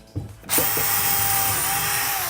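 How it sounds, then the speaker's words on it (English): Power drill pre-drilling a hole in a wooden cabinet: a couple of soft clicks, then the motor whirs up and runs steadily, loud and close, with no voice. "So the first thing you want to do is pre-drill a hole before."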